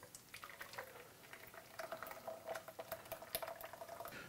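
Thick, smooth blended soup pours into a bowl in a kitchen, giving a soft continuous liquid rush with small splashes and drips. Nobody speaks over it.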